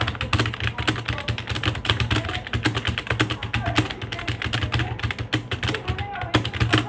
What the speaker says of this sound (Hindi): चलिए मेरी आप अपनी टाइपिंग स्पीड दिखा देता हूँ, जो मैं इसी टेक्निक से बनाया हूँ।